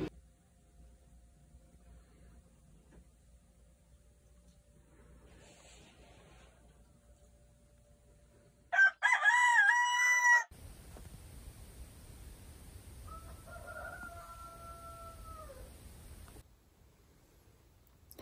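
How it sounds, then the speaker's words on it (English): A rooster crows before dawn at Pine Grove Furnace on the Appalachian Trail, two short drawn-out calls, distant and fairly faint over a low steady hiss, after a brief loud rustling burst nearby. "There's a rooster crowing."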